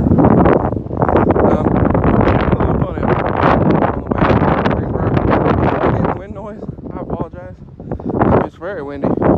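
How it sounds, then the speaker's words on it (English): Strong gusts roar outdoors and batter the microphone, rising and falling over several seconds, while someone talks under the wind. "Very windy."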